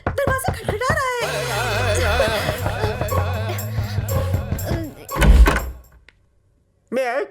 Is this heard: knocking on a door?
yes